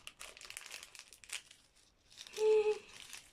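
A plastic toy package is crinkled and torn open close by in quiet, scattered rustles, followed by one brief, louder crackle.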